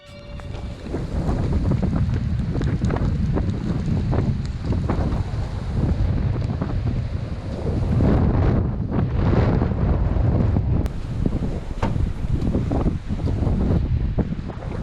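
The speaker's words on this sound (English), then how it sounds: "It is really windy. I think you can notice in the background." Strong wind buffets the microphone in steady, roaring gusts on a sea-fishing shore in London, with a broad rumble that swells and eases throughout, loud and close.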